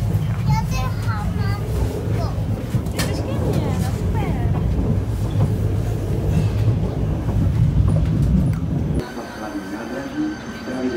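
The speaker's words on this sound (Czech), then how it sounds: "Přijedeme ve vláčku." A small tourist train rolls along on the way to a railway museum, its steady rumble and wheel noise filling the ride, with faint squeals and people talking over it before the sound drops and changes near the end.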